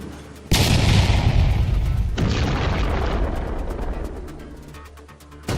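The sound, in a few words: train collision crash boom sound effect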